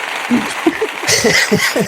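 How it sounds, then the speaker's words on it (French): Brief applause greeting guests at the start of a French advent-calendar challenge, a short burst of clapping with laughter and chatter mixed in. "Allez, on applaudit les invités."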